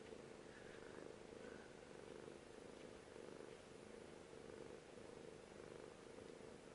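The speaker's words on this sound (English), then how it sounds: "I can hear the cat purring" A cat purrs close by with a steady, rhythmic low rumble that continues unbroken, faint and without voices.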